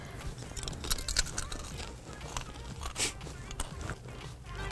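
Salty potato chips bitten and chewed close to the microphone, a run of irregular crisp crunches and crackles that keep going without a break.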